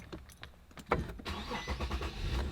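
A Nissan rear-wheel-drive car engine cranks and starts, with a few faint clicks first, then a sudden catch that settles into a rumbling idle close by.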